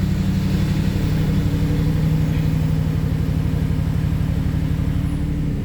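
An Audi RS5 V8 engine runs at high idle close by, a steady deep rumbling drone with a fine rapid pulse that eases slightly toward the end, with no talking.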